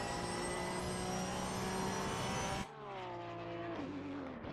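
Onboard a Porsche GT3 Cup car in a racing video game, the engine screams at high revs, then drops sharply on a downshift and rebuilds in a lower, rising tone.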